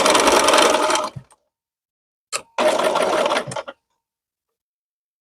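Sewing machine stitching quilt seams in two quick bursts of rapid mechanical whirring, separated by a brief click and silent pauses.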